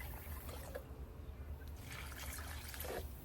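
Water being poured onto potted dragon fruit plants, a soft close trickle and splash at low volume, with brief faint touches of movement around it.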